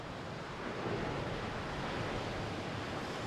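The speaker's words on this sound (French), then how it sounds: "une plage qui est magnifique, mais il faut toujours se méfier de la mer" Sea waves crash and roll steadily on a wild, windswept beach under changing grey weather, a dense continuous roar with wind buffeting the microphone and no voices.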